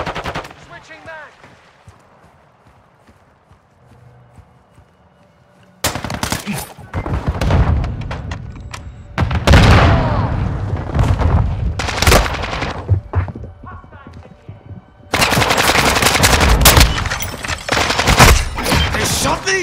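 Multiplayer gunfire in Call of Duty Modern Warfare II: close automatic weapons fire in dense, loud bursts after a quieter opening, with sharp rapid shots and brief pauses between volleys.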